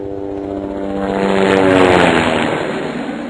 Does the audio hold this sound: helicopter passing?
yes